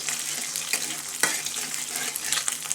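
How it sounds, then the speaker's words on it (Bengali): Egg fries in hot oil in a pan before noodles are added, giving a continuous close sizzle with a few sharp spatula clicks and scrapes as it is stirred, and no voices. "আগে তেল দিয়ে নিয়ে তারপর ডিমটা দিয়ে দিলাম"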